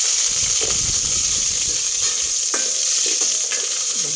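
Garlic frying in a pan for a Filipino soup dish, a steady close sizzle with occasional stirring scrapes and clinks.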